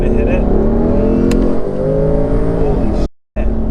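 A 1000-horsepower twin-turbo Mustang GT accelerates hard, its engine roaring loud and close with rising harmonic tones, briefly cut by a short dropout near the end before the roar resumes.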